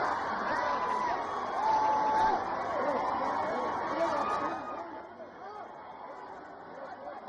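A dense crowd of fans packs the outside of a Hyderabad theatre at the Pushpa 2 premiere, a loud continuous roar of chatter, shouts and whoops that eases slightly toward the end.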